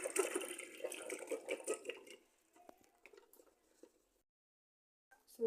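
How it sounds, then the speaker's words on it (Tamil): Boiled cauliflower drained through a strainer: hot water pours and splashes loudly for about two seconds, then thins to scattered trickles and drips that fade into near silence. "காலிஃப்ளவரை வடிகட்டிக்கலாம்"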